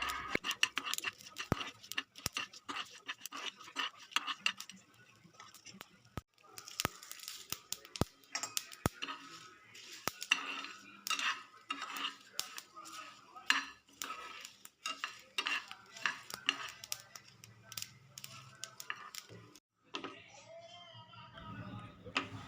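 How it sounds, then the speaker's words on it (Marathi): Whole spices (coriander seeds, cumin, sesame, cloves, cinnamon and bay leaf) dry-roasting in a pan make rapid, quiet scraping and rattling clicks from constant stirring, with a softer stretch near the end. "पॅनमध्ये सगळे खडे मसाले आपण परतवून घेऊयात"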